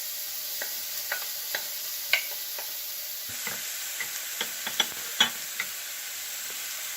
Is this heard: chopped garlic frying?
yes